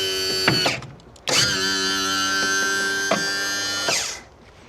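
An electric trim and tilt motor on a boat's outboard jack plate whirs in steady whining runs. It starts and stops with abrupt clicks, loud and close, with no voices.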